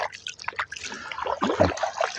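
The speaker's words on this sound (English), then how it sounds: "Just want to wet my hands." Hands splash and swish through pond water while fishing for trout at Reynolds Ponds, Manitoba, with irregular close trickles, drips and gurgles over about two seconds.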